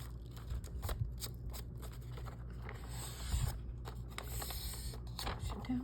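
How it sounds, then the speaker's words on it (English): Paper pages are folded over and creased for a handmade journal, making soft repeated crinkles, rustles and scrapes close by under a talking voice. "Fold it over, fold it over"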